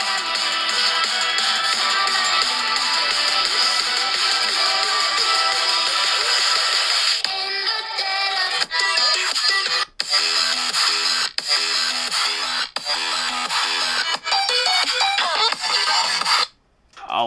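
A ringtone plays from a phone's own speaker, loud and close: a dense, bright tonal passage gives way to a choppier, beat-driven section with short pauses, running for over fifteen seconds with no one talking.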